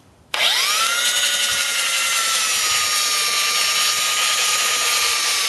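A rotary sander starts abruptly and runs at a steady high-pitched whine on a carved wooden sign, loud and close, holding a constant tone.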